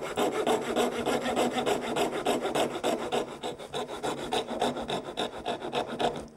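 A coping saw cuts box joints in plywood, a close, raspy back-and-forth scraping in a quick, even rhythm of about three strokes a second, with no talk.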